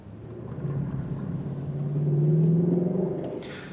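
A Lexus LC500, rear-wheel drive with a 10-speed automatic, pulls in Sport Plus mode with a low engine rumble that builds steadily and peaks near the end before easing. No one speaks over it.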